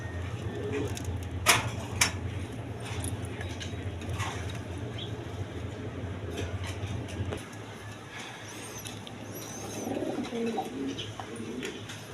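Pigeons at a Bangladeshi pigeon farm coo softly and intermittently among other bird calls, over a steady low hum and a voice speaking nearby.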